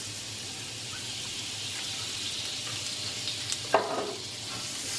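Olive oil with a tablespoon of butter sizzles in a frying pan, a steady close hiss of frying throughout, with a brief clink of a utensil near the end.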